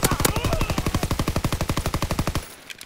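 Rapid automatic gunfire in Call of Duty WWII rattles off in a long steady burst of evenly spaced, punchy shots, close and loud, before cutting off abruptly.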